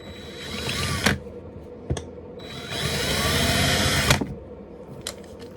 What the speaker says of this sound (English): Pilot drill that